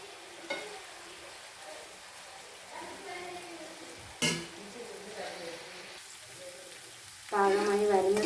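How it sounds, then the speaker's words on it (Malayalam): Pieces of tuna fry in a pan for a coconut tuna pickle, a soft, steady sizzle under a voice, with occasional gentle scrapes and stirs and a sharp clatter near the middle. "നല്ലോണം മൂപ്പിച്ച് നല്ല വറുത്ത് പോരണം."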